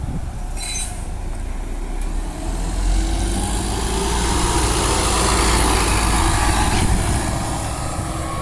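A bus engine pulls away from a stop, a loud rumbling drone that swells and builds over several seconds with road noise and a faint hiss on top, no voices.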